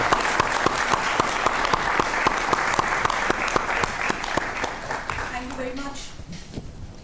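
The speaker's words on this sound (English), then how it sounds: "May I have standing applause from the audience" A seated audience at a televised policy dialogue on India's G20 presidency gives standing applause in honour of a guest, steady dense clapping that is loud and sustained, with a few sharper claps, and tapering off near the end.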